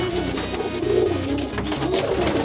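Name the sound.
domestic pigeon cooing while being vaccinated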